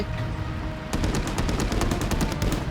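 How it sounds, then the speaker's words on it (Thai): Gunfire in the video game Call to Arms starts after a quiet second. It becomes rapid, loud bursts of automatic shots that fire close together and repeat to the end. "ยิงกันดูเดือดมาก"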